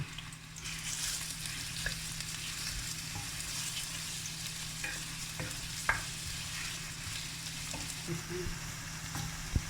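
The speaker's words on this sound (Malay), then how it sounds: "kita goreng bawang merah 2 biji yang kita potong halus tu sehingga garing" Steady sizzle of finely chopped shallots frying in hot oil, with occasional clinks of a spatula stirring the pan, close by.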